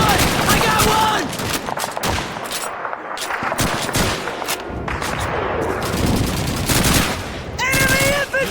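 Dense gunfire rattles through a Call of Duty 2 battle during a Rhine river crossing, with rapid machine-gun bursts and single shots packed close together and shouted voices mixed in, then a short lull before another burst.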